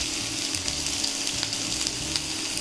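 Chopped onion sizzling in hot oil with mustard seeds and cumin for paneer bhurji, a continuous close crackle and hiss with a few sharp pops over a low background hum.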